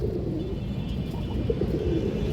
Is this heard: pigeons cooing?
yes